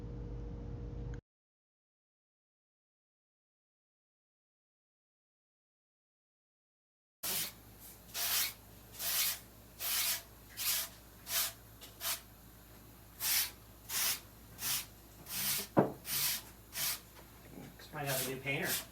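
Bursts of an airbrush gun spraying paint onto a custom surfboard, a steady rhythm of short hissing pulses, close and fairly loud, after a brief stretch of silence.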